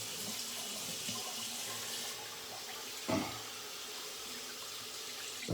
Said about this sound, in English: I pour some additional water on the brush to warm it up a bit.